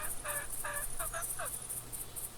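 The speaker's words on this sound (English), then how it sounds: "There's a gobbler right there." A wild turkey gobbler in theHunter hunting game gobbles in several quick rattling bursts at moderate distance, set against a quiet outdoor background.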